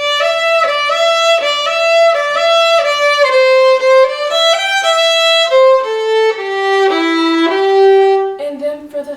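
A close solo fiddle plays both parts of the old-time tune Old Melinda back to back, with long bowed notes in an even rhythm, a gradual descending line and no voices over it.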